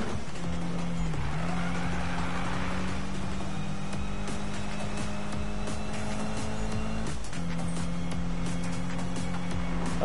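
A racing car engine in Need for Speed drones steadily at high revs, briefly dipping around a shift before climbing back to a sustained, loud hum.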